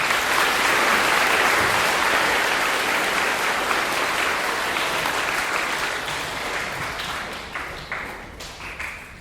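Audience at a school veterans assembly applauding: dense, sustained clapping from a large crowd that holds steady and then gradually thins and fades, with a few individual claps at the end.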